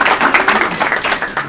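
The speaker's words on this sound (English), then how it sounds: "Give us a cheer." A live audience at a parks-policy conference session cheers and claps on cue, making a loud, dense burst of whooping and applause throughout.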